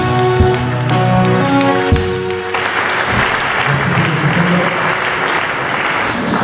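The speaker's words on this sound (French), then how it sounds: "Acclame le Seigneur Jésus-Christ de Nazareth" A church congregation at a French-language worship service breaks into sustained, dense applause after a few seconds of sustained tones, with the clapping continuing loud and steady to the end.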